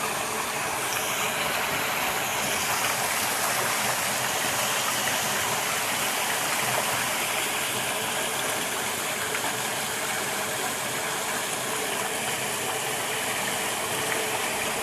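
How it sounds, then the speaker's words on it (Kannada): River water rushing steadily at Bashetti village, a loud, dense broadband roar that stays constant and close throughout with no voices over it. "ನೀರು ಎಷ್ಟು ಹೋಗ್ತದೆ."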